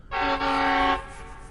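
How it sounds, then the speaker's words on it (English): A train horn sounds as a train rolls into a station: one loud, close, steady chord-like blast of about a second, then low rumbling rail noise. "Oh yay, the train."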